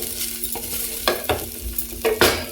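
A millet poha mixture is stirred in a pan over a low sizzle, with several close scraping sweeps and soft knocks of the spoon at an irregular pace and no voices.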